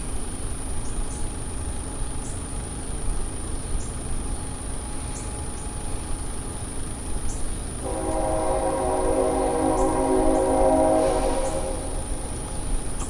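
A train rolls past with a steady low rail rumble, and its horn sounds as a sustained, fairly loud blast for about three seconds partway through, with no talking.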